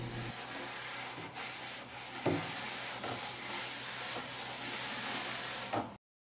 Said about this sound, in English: I'm priming this piece with Rust-Oleum Flat White.